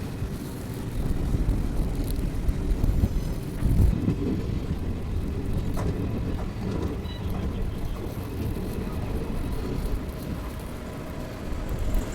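Steady low rumbling wind buffeting a microphone outdoors at a railway station, continuous and fairly loud, with a brief louder gust near the start.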